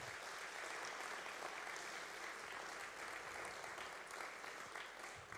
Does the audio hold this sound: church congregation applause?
yes